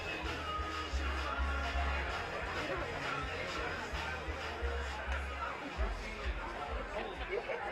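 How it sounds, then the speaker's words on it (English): Chatter from a good-sized crowd at a Minnesota amateur baseball state tournament game in Dundas, a steady babble of many voices under a nearer announcer's voice, with a low hum underneath. "As we've seen good crowds all day."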